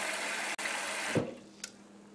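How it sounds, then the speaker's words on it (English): Tap water pours over potatoes in a pot, a steady close rush that cuts off partway through, followed by a faint clunk and quiet. "So put some water over the top of the potatoes."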